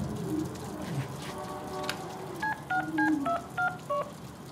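A phone number is dialed in the Deadpool video game: a run of about eight distinct touch-tone beeps in uneven rhythm, clear and fairly loud over a low background murmur.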